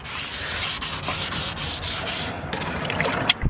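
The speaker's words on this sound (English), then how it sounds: "now we are sanding the bottom part with 220 grit, just so the primer can have something to stick on." 220 grit sandpaper rubbed across the bottom of a car body to prep it for primer, a close, loud, continuous scratchy sanding stroke that runs steadily throughout with no talking.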